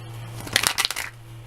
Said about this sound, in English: I'm going to shuffle right now, just twice more.